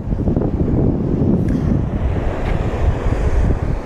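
Ocean surf rolling in beneath the Golden Gate Bridge in San Francisco, a steady loud wash of waves mixed with heavy wind buffeting against the microphone, no voices present.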